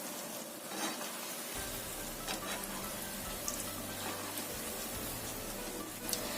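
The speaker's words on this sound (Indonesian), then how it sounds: "Goreng semuanya wajan aja. Goreng sampai kuning keemasan sambil sesekali dibalik." Carrot and potato snack pieces frying in oil in a wok over a moderate flame, a steady dense sizzle with low hum running throughout, no talking.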